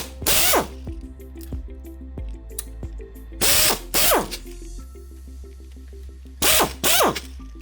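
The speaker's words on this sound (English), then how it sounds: "Loosen the cap-fixing bolts." A power ratchet loosening the cap-fixing bolts on a JCN70 bumper assembly: several loud short whirring bursts with clicking pawl sounds between them, close up and without speech.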